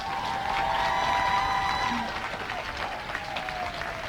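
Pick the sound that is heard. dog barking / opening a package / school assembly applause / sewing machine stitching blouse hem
school assembly applause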